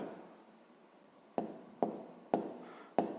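Pen writing out a fifth-grade math problem solution, a soft scratching line followed by four crisp taps and strokes at a steady pace, close and quiet.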